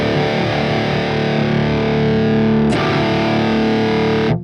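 Electric guitar through a Fortin NATAS pedal into a Marshall JCM-2000 amp, a continuous loud, heavily distorted chord ringing with thick low end, then a sharp pick scrape before it sustains and cuts off.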